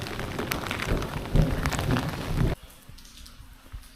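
Heavy rain pelts down during a thunderstorm on a fishing trip, a dense close patter that cuts off suddenly partway through, leaving only faint rustling.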